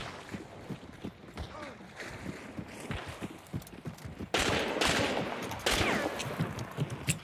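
Loud shotgun blasts go off in the Hunt: Showdown match, sharp bursts hitting hard around the midpoint amid rustling game ambience and quiet voices from teammates.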